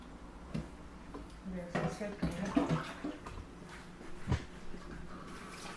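Cassava pieces are rinsed by hand in a basin of water, with intermittent sloshing and splashing plus a few knocks against the container, all close by and fairly quiet.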